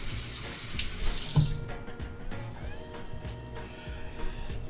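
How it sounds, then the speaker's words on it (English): Water running from a kitchen tap into a sink while cooking, a loud gushing stream that starts strongly, then settles into a softer steady flow with small clinks and drips, no talking. "I need to get some water going."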